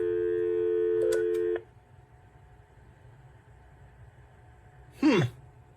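Steady electronic intercom phone tones for about a second and a half, then quiet line hiss, followed by a short sweeping chirp near the end.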